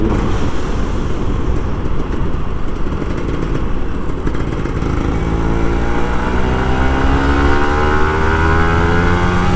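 A Kawasaki Ninja RR two-stroke motorcycle rides in Jakarta traffic, its engine droning loud and close with wind noise, then rising in pitch as it revs up in the second half.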